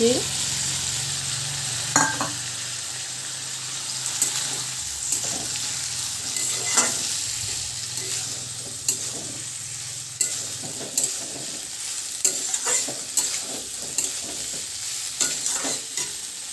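Spiced soybean chunks and potato fry steadily in a pan, a continuous close sizzle broken by regular utensil scrapes and clinks as the mixture is stirred, with no talking.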